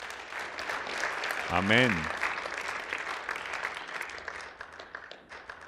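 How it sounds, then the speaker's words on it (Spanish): Congregation applause at a church service, dense clapping from the crowd close by, with a voice calling out briefly over it early on and the clapping tapering slowly toward the end. "Démosle un aplauso al joven que le entregó su vida al Mesías el día de hoy."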